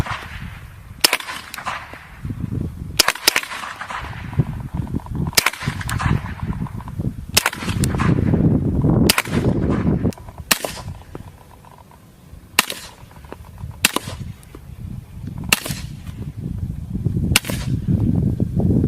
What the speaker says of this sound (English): So that was the M9A3, or the suppressed pistol, both suppressed and unsuppressed with different kinds of ammunition.